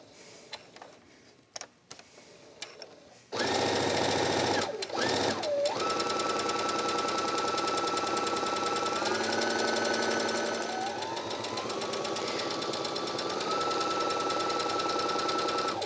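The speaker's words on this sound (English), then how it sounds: "I'm just going to kind of use the edge of the presser foot as my guide and sew all the way around the circle." Sewing machine stitching fabric around a circle for a drawstring makeup bag, starting after a few light clicks and then running continuously, loud and close, with a steady whirring motor tone.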